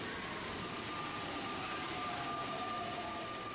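A subway train runs with a steady, loud rushing roar and faint tonal whine, continuous and unbroken from start to finish, with no voices.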